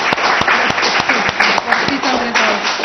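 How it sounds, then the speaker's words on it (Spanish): A meeting audience applauds steadily, with dense clapping filling the room and a few sharper claps standing out, while faint voices carry on underneath. "me parece que se merece un aplauso la gente de la..."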